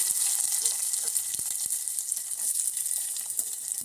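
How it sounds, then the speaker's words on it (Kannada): Mustard seeds, cumin, green chillies and onion frying in hot oil, a dense continuous sizzle with scattered tiny pops and crackles, close and fairly bright, without any voices. "ಇವಾಗ ಎಣ್ಣೆ ಕಾದಿದೆ ಇದಕ್ಕೆ ಒಂದು ಸ್ಪೂನ್ ಸಾಸಿವೆ ಹಾಕೋತಾ ಇದ್ದೀನಿ"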